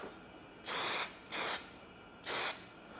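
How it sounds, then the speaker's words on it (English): An aerosol can sprays in three short hissing bursts, close by, with quiet pauses between them and no talking. "Oh, this stuff actually sprays really good out of the can."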